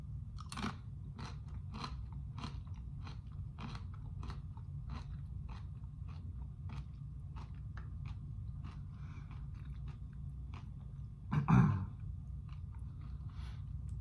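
Tortilla chips dipped in cherry queso are chewed up close, a long run of regular crisp crunches over a low steady hum, with one louder crunch near the end.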